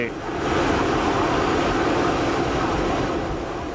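Passenger airliners operating at Shenzhen Huangtian Airport: a loud, steady broadband jet-engine roar swells in within the first half-second and holds constant throughout, with no clear speech.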